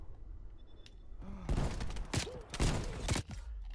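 Automatic gunfire from a Stoner 63 light machine gun in Call of Duty Cold War, heard as several loud bursts of rapid shots over constant game background noise, with someone talking in between.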